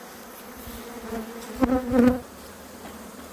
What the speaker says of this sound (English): But the minute you feel a bee in your veil,